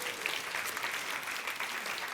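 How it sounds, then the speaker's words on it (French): A church audience breaks into brief, steady applause, soft and somewhat distant, with no voices over it. "Vous avez le droit d'applaudir."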